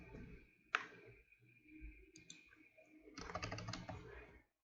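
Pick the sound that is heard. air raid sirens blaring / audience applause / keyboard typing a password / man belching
keyboard typing a password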